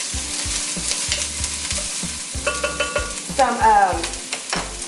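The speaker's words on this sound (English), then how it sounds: "Okay, so we're gonna put some onion in here. And because my pot was waiting on me, we already got that sizzle." Minced onion sizzling in a hot soup pot for taco soup with ground beef, frying steadily while a spoon stirs and scrapes in repeated strokes, close and fairly loud with no talking.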